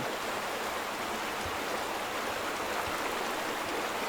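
Water flows steadily in The Vanishing of Ethan Carter, a continuous broadband rush like a stream or small waterfall, constant in level with no voices.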